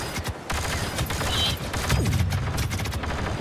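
Rapid turret gunfire in Star Wars Battlefront II, a dense run of sharp repeated shots with a descending whine partway through, all set against busy battlefield noise.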